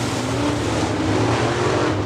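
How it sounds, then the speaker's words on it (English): IMCA Sportmod race cars roar through a heat race at US 30 Speedway, a loud, dense, continuous engine drone with no break across the short stretch. "Green flag is up in our first IMCA Sportmod heat race."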